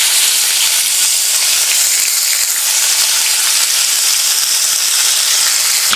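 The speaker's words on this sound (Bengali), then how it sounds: "এই পর্যায়ে দিয়ে দেব পেঁয়াজ বাটা" Onion paste frying with spices in a pan for egg malai curry, giving a loud, continuous close-up sizzle and hiss.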